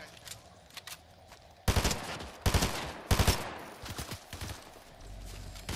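Fortnite gunfire rattles in quick bursts, with dense volleys of shots firing close and loud and sparser shots between them over steady game background.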